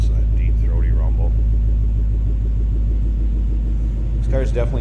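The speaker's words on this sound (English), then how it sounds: "Listen to that deep throaty rumble." A 2011 Ford Mustang Roush Stage 2 convertible with a Coyote 5-liter V8 and Roush exhaust holds a steady, deep, low rumble throughout, close and constant, while someone talks over it.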